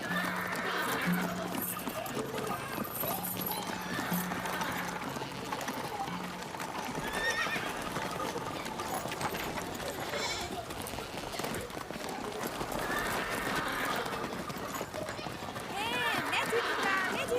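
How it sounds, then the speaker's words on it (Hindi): Horse neighing and whinnying with hooves clip-clopping, set among continuous dialogue and a busy dubbed-drama soundtrack, all fairly loud throughout. "जल्दी करो, मेरा घोड़ा ले जाओ।"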